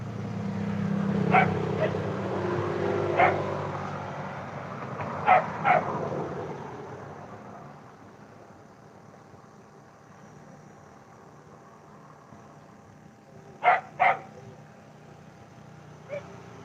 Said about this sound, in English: Yeah, sorry for my dogs